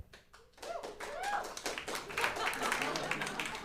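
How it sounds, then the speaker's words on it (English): A debate audience gives scattered light golf claps, a handful of separate hand claps that start sparse and grow into a loose patter, heard over a talking voice and murmur in the room. "Golf claps. You got a few."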